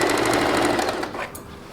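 A sewing machine runs a quick seam on an Anarkali kurti made from an old saree, a rapid, even needle rattle close by that stops after about a second, leaving a brief quiet tail.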